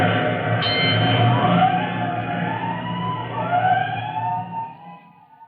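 Fire engine siren from a 1948 radio drama, a loud wailing tone rising and falling over engine rumble, then fading away as the vehicle departs, with no voices.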